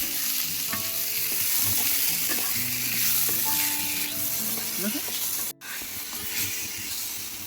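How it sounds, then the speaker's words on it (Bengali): Cut mango pieces sizzle loudly in hot oil with mustard seeds and dried red chili, a dense, continuous frying hiss with scraping stirs and a short break partway through. "আমগুলো দিয়ে আমি হালকা করে ভেজে নেব।"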